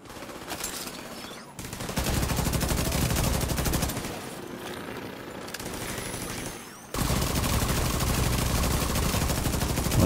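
Sustained turret gunfire from a mounted gun in the game The Division 2 roars loud and continuous, broken by brief pauses near 1.5, 4 and 6.8 seconds before resuming in heavy rapid bursts.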